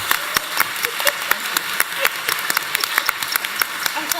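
A person claps their hands in a steady, brisk rhythm of sharp, close slaps at a panel event, with faint voices murmuring underneath.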